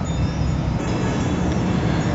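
An MRT metro train in Metro Manila, at Kamuning station, rumbles loudly and steadily with a dense roar of wheels and motion, close and continuous.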